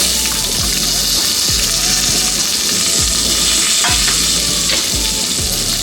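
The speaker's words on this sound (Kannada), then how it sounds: "ರೀತಿ ಕ್ಯಾಪ್ಸಿಕಮ್ ಹಾಕ್ಕೊಂಡು 1-2 ರಿಂದ 3 ನಿಮಿಷದಷ್ಟು ಇದನ್ನು ಎಣ್ಣೆನಲ್ಲೇ ಫ್ರೈ ಮಾಡ್ಕೋಬೇಕು." Medium capsicum, sliced, frying in oil in a pan, a loud steady sizzle throughout with occasional stirring scrapes, close up.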